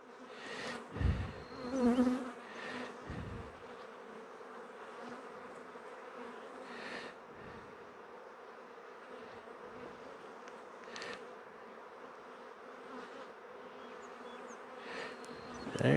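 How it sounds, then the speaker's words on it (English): Honeybees swarm around an opened apiary hive during a spring inspection, their steady, dense buzzing filling the air throughout, with a few sharper close passes of individual bees near the start. "The mean bees."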